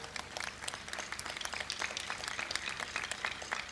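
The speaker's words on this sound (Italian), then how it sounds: "per il quale chiedo un applauso" Audience clapping at the opening ceremony of the Palio 2025; faint, distant applause with scattered individual claps, steady throughout with no voices over it.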